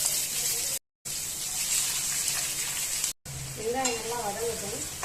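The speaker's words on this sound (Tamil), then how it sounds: "பேன்ல எண்ணெய் ஊற்றிக்கலாம். சின்ன வெங்காயம் சேர்த்துருக்கேன். கொஞ்சமா பெரிய வெங்காயம்." Shallots and a little large onion frying in oil in a pan for goat leg gravy, a steady close sizzle with brief dropouts, stirring scrapes and a wavering tonal squeak near the end; no talk.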